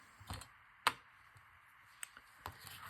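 Ripple scissors cut through paper, giving a few sparse, sharp snips and clicks at irregular intervals, close and otherwise quiet, for a Halloween junk journal craft.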